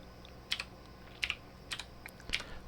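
Light, sparse keystrokes on an Amiga 1200 computer keyboard as a command is typed, four or five quiet clicks spaced about half a second apart in a near-silent room.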